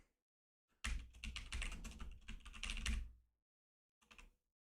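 Rapid clicking on a computer keyboard with a broken key, a dense burst of keystrokes lasting about two seconds, then a short second flurry, close and crisp in an otherwise quiet room.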